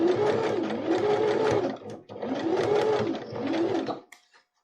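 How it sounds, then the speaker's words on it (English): A sewing machine stitches slowly along the top fabric edge of a reusable face mask, running in two close, steady whirring bursts with a short break between and a few soft clicks as it stops. "Just going to slowly sew all the way along this top edge."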